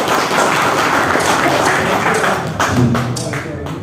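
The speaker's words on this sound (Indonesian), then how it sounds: "kita berikan tepuk tangan yang meriah" Applause from the audience at an interfaith leaders' dialogue gathering, a brief burst of clapping that tails off, with voices mixed in.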